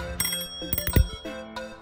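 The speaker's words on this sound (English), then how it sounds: "On the other side, you'll find the bell." A handlebar bell on a bike-share city bicycle rings several times in quick dings, bright and close, with no voices.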